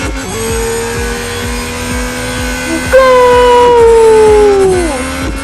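A Red Bull race car in the Real Racing 3 mobile game drones steadily with engine noise, then a long, loud tire squeal slides downward in pitch over a couple of seconds.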